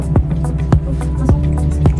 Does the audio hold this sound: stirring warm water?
yes